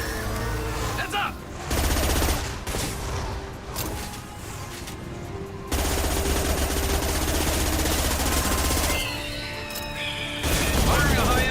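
Gunfire in combat in Mass Effect 2: bursts of rapid automatic fire come and go in loud stretches, with heavy impacts and voices talking in between.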